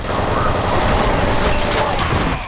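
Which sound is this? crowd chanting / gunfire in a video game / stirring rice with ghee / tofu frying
gunfire in a video game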